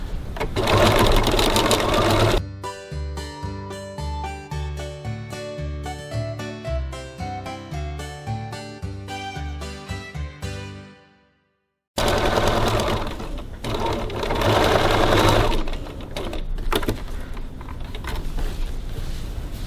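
A sewing machine runs a second line of stitching around a piped gusset, loud and steady in long runs with a brief pause partway through, rapid needle rhythm continuous at close range.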